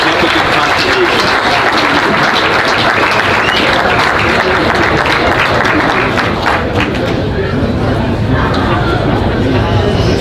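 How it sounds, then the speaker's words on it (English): Loud, dense applause from a hall of fame induction audience honoring coaches, sustained clapping with crowd chatter throughout, thinning slightly near the end. "Let's give all our Cyclone coaches a warm round of applause for their efforts"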